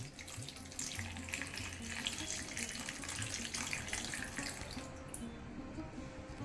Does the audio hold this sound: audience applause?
no